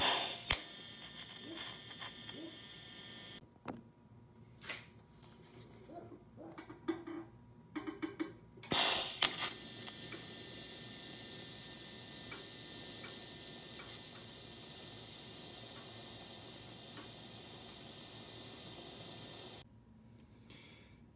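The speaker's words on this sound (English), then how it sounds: "My little welder, I gotta get used to." Small DC welder running at about 80 amps with shielding gas, a steady crackling arc hiss that starts abruptly, holds for roughly ten seconds loud and close, then cuts off, with earlier clicks and handling noises before it.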